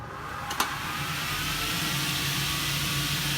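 Motor of a Meteor-1 (420) cutting saw for aluminum, wood and PVC, with the workpiece clamped and the safety cover closed, starting with a click and settling into a loud, steady whining hum that continues close by.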